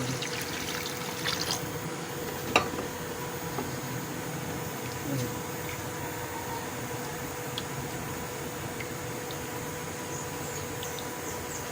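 Water trickles and pours into a cooking pot in a steady, fairly quiet stream, with a few small clinks and knocks scattered through and no clear speech.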